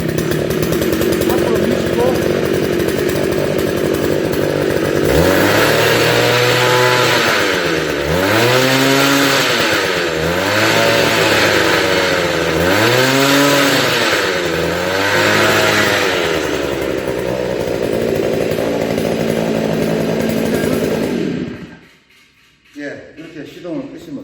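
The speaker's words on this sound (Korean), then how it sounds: "한번 당기면 시동이 걸리거나 아니면 엔진이 그렁거립니다" A small MT-003 mini cultivator's petrol engine is pull-started and runs loud and steady, with several rhythmic surges as it revs, then cuts off abruptly near the end.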